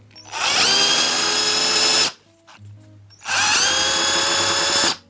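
A Parkside PBZS 5 A1 drill pump runs at its second speed in two loud, steady bursts of about two seconds each, a whining motor roar with a short near-quiet gap between them.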